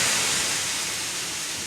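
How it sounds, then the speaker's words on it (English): Steam engine lets off a steady, loud wheeze of steam, a continuous broadband hiss that fades slightly over under two seconds, with no other sounds. "Thomas laughed so much that he let off a great wheeze of steam."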